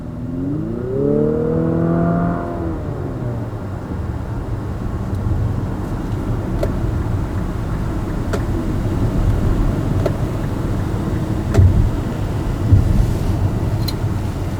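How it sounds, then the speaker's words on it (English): A 2023 Infiniti QX50 Sport drives along a winding road, its engine rising in a revving sweep at first, then settling into a steady cabin hum with road and wind noise and occasional small bumps. "I'm just gonna let you experience the car and the drive of it."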